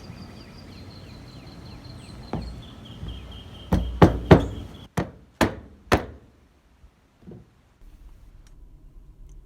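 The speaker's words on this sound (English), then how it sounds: "we're going to put the roofing tacks anywhere from 3/4 of an inch to an inch apart" A hammer drives roofing tacks into the ridge cap of a treehouse roof, about eight sharp, close knocks, some in quick pairs, separated by quiet pauses.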